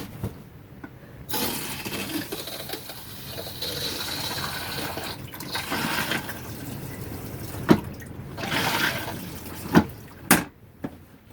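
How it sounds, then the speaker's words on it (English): A Thetford RV toilet, just fitted with a replacement water valve, flushes with a long rushing wash of water and a hiss of refilling. A few sharp clunks of the pedal and valve follow near the end, heard close up in a quiet room. "And we're going to try flushing."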